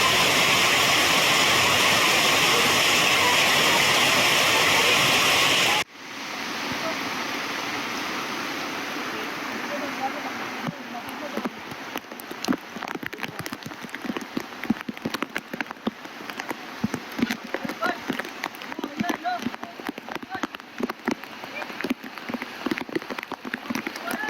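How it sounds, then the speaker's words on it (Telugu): Heavy rain pours over Hyderabad in a steady, dense hiss, loud at first, then continuing after a sudden cut with closer, irregular drops spattering on surfaces throughout. "హైదరాబాద్ లో భారీ వర్షం కురుస్తోంది."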